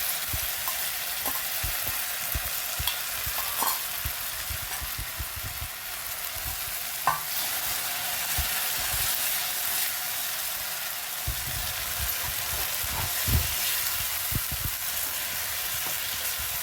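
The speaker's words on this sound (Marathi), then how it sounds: "मस्त फोडणी आपली खूप छान बसली" Tempering spices sizzling in hot oil for a Maharashtrian phodni, a steady crackling hiss that runs throughout with a few sharper pops, close and fairly loud with no talking.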